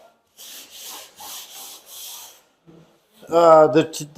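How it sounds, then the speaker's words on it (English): Sandpaper rubbed over rough, textured drywall in about five quick, even strokes, close and fairly soft, followed by a short burst of speech. "just take your sandpaper once over it"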